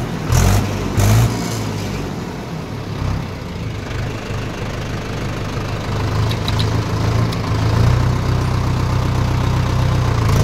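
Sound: Mahindra 575 DI XP Plus tractor engine starting and idling

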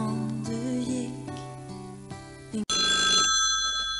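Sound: telephone ringing

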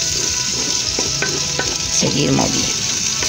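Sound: frying chili peppers (ajíes) for caigua stew

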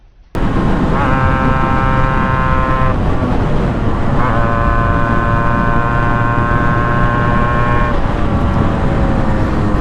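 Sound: Yamaha RXZ motorcycle engine sound

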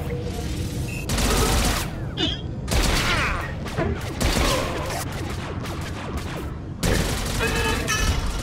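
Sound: sweeping gunfire in video game Star Wars: The Old Republic

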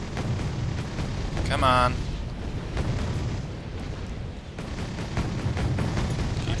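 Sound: Leclerc tank cannon firing in the video game Wargame Red Dragon

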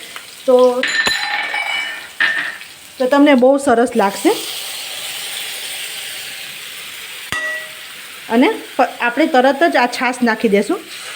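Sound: frying ginger, chili and garlic paste in a pan

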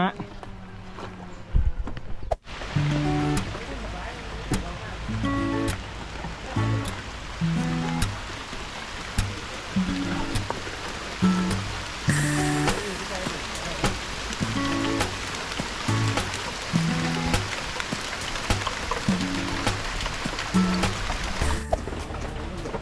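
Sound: rain falling outdoors while fishing

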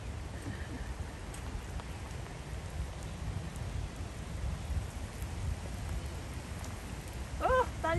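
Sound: rain starting to fall

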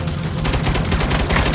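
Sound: gunfire in Saints Row video game

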